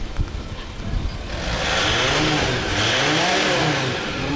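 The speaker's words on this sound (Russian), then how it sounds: "Оборотов дайте." A used van's engine, checked over at a car lot in Kyiv, idles roughly and then revs up into a sustained, loud, close roar that holds steady before easing slightly.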